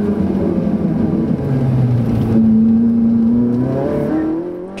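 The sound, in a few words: Ferrari 458 Italia setting off, engine accelerating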